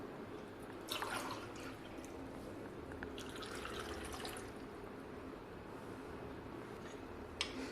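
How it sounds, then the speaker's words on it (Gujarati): Two glasses of water are poured into a pressure cooker holding potatoes, producing soft splashing and dripping bursts close by, faint and intermittent against a quiet kitchen background. "અત્યારે હું અહીંયા 2 ગ્લાસ પાણી એડ કરું છું."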